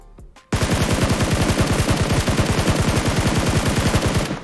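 Gunfire in PUBG Mobile: a sudden, loud, sustained automatic stream of rapid, evenly spaced shots running for about four seconds, close and unbroken.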